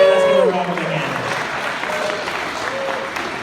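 A crowd claps in a steady, dense wash of applause after a ceremony, with a brief tonal voice-like sound at the start fading into the clapping.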